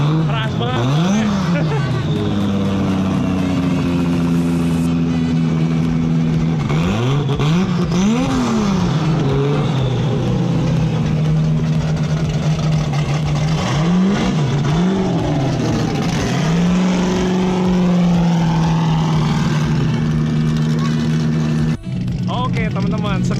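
V8 tubular speed off-road race car engines rev hard at a dirt racing event, sustained loud roaring with repeated sharp throttle blips and surges, under crowd hubbub and commentary.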